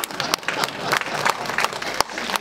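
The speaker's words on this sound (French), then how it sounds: "Alors, on applaudit parce qu'il a applaudi là." An audience applauds at a round-table discussion at a lynx-themed weekend event, with brief, lively clapping from a modest crowd and a few louder claps standing out near the end.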